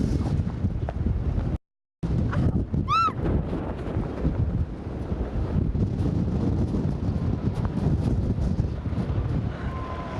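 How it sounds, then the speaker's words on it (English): Strong gusty wind in Palm Springs roars and buffets the microphone continuously, broken by one brief dropout and a short high chirp, with no voices. "The wind is so bad here in Palm Springs"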